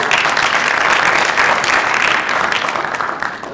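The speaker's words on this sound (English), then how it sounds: "a round of applause for our" A live audience gives the guest panel sustained applause, a dense, even wash of many hands clapping that holds steady and eases off slightly toward the end.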